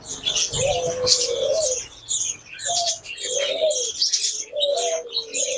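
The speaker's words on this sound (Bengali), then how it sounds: "এগুলো কি জাতের কবুতর এটা আপনার ফ্যান্ডেল কবুতর" Fantail pigeons at a bird farm coo in a run of soft, throaty calls close by, mixed with sharp chirps from other birds in the background.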